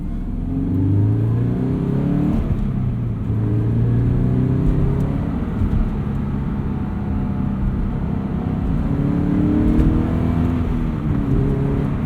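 A Subaru BRZ fitted with a catted UEL header and stock exhaust pulls through the gears while driving, a steady droning engine note from inside the cabin rising and falling as it accelerates, cold winter air.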